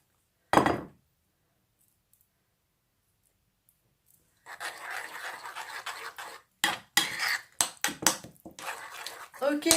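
Garlic and chive fromage blanc sauce is stirred in a bowl, giving a brief clink at first, then a few seconds of quiet, then a run of scraping, clattering mixing strokes that ends in louder bursts.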